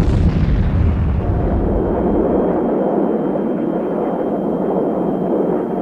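A bomb dropped in an A-10 Warthog attack explodes, a loud, close blast that fades into a long rumbling roar.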